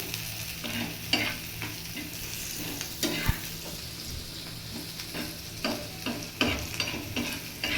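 A spoon stirs chopped onions with turmeric as they fry in a home kitchen pan. Steady, close sizzling runs throughout, broken by repeated scraping and clinking strokes, and no one speaks.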